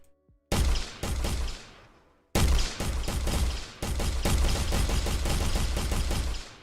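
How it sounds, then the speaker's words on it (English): Rapid gunfire from an AI-controlled enemy in an Unreal Engine 4 game, loud sustained bursts of close shots with brief gaps, the final stretch a long continuous automatic volley. "he'll start shooting at me"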